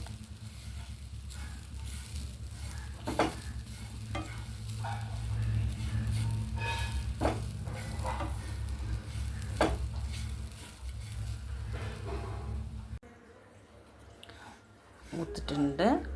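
Spices roast in a pan for a raw mango curry, giving a soft continuous sizzle broken by scraping stirs of a spoon, with a quieter pause near the end before the stirring resumes.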